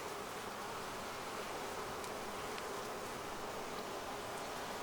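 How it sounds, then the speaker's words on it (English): A dense, continuous buzzing hum of many bees in a packed beehive, close up and steady, filling the whole stretch with no voices. "And it is packed with bees."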